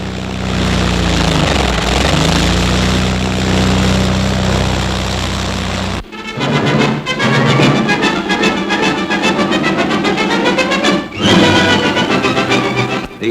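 A 1945 helicopter in flight: its rotor and engine make a loud, steady drone for the first six seconds, then music takes over.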